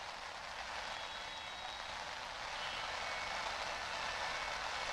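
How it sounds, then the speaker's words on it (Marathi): Heavy monsoon rain falls steadily in Mumbai, a dense, even hiss that holds at moderate level for the whole stretch, with a faint low rumble of traffic beneath and no voices. "मुंबईमध्ये सकाळपासूनच चांगला मुसळधार पाऊस पडताना दिसून येत आहे"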